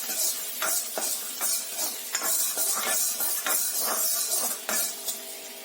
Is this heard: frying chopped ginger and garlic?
yes